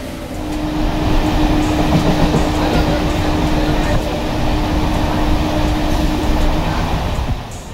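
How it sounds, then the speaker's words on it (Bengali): A passenger train bound for Bardhaman running along the rails, heard from inside the carriage as a continuous loud rumble and rattle with a steady hum underneath. "ট্রেন ছেড়ে দিয়েছে একদম টাইমে পুরো ট্রেন ছেড়ে দিয়েছে।"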